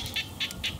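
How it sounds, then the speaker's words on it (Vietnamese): Three evenly spaced, high-pitched chirping calls of small frogs calling close by at night in the Mekong Delta countryside, with a steady low background hum. "Bạn nghe nhái kêu không?"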